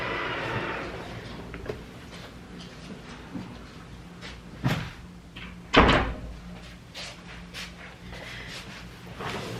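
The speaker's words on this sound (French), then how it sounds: "en fermant la porte, ça sera beaucoup mieux" Indoors, a door is pushed shut with a solid thud near the middle, after some lighter knocks and handling noises, in an otherwise quiet room.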